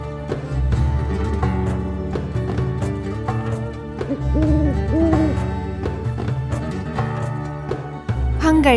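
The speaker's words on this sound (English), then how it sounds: "Tawny owl" Tawny owl hooting, heard over continuous loud background music with a steady beat that fills the whole stretch.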